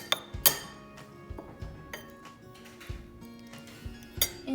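Lemon and orange zest being roughly stirred in a bowl for a brioche des rois, with light clinks of a utensil against the bowl at a steady, uneven pace, close and fairly quiet.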